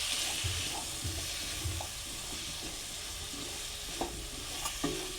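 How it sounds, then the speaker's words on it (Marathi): Eggplant and potato pieces sauté with masala in a pan, giving a steady sizzle with soft stirring scrapes and a few sharp clinks near the end. "चांगली परतून घेऊ जेणेकरून तो जो मसाला टाकलेला आहे तो त्या फोडीना लागेल"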